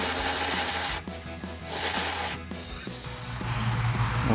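An electric ratchet with a 10mm deep socket spins off nuts on a 2010-2014 Mustang rear spoiler, giving steady close mechanical whirring and rasping in several runs with short breaks.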